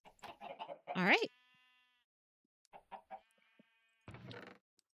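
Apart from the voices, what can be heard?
chickens clucking in Minecraft (video game)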